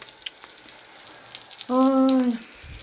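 Oil sizzles softly and steadily in a frying pan before shrimp are added, a quiet hiss, with a short tonal hum rising briefly midway.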